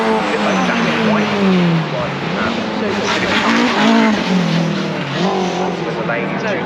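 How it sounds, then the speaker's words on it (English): Honda race cars drifting at Cadwell circuit, with engines screaming continuously at high revs, pitch sweeping up and down through gear changes and tyres squealing, loud and close throughout. "Racing Hondas"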